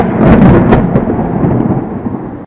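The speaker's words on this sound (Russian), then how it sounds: "как небо-то заволокло, и гром грохочет." Thunder rumbles as an audiobook sound effect, a loud, close, rolling peal with a crackling onset. It fades gradually into a low grumble before cutting off.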